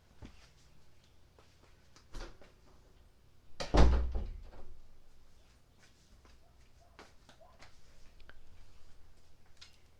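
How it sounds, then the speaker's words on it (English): Indoor door closed during a home crochet podcast: a soft thump and a louder latching thud near the middle, with faint shuffling movement and room noise around it and no talking. "Excuse me for a moment while I close the door."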